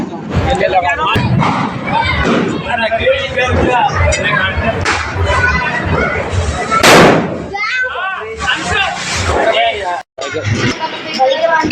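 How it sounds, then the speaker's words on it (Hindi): Diwali firecrackers go off among a group of friends: at least one sharp, loud bang bursts out over nearly continuous close chatter and excited voices. "यहाँ पे लगा रहे बम"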